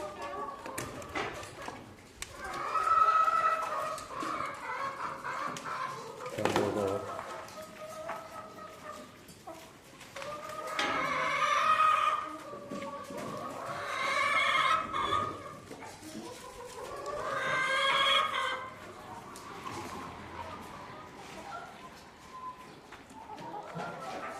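Chickens cluck and squawk repeatedly at close range in bursts, with a brief crow-like call among them and shuffling movement in between.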